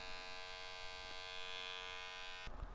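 A cordless 3-in-1 hair clipper and trimmer runs with a steady, faint electric buzz, then a short click as it shifts near the end.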